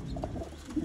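Sialkoti breeder pigeons give a brief, soft cooing call, close by, with a low steady background rumble.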